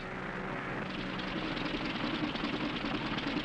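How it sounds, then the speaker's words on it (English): An aircraft engine in trouble runs steadily as a loud, rough drone with a faint uneven pulsing throughout, in a 1946 film scene, with no talk over it. "Engine trouble, sir. We'll have to go back to the field."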